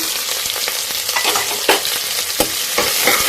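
Loud, continuous sizzling of onion, garlic, curry leaves and dried red chillies sautéing in a pan, with intermittent scraping and stirring sounds from a spatula, close-up and without voices.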